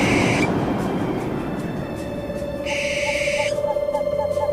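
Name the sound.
flock of owls hooting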